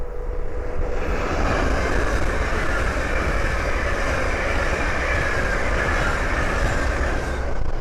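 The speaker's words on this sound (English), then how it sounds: "the next train to pass by is a Hull Train 800" A Hull Trains Class 800 passes by on the East Coast Main Line, a loud, sustained roar of wheels and motors rushing past at close range, steady for several seconds before easing off.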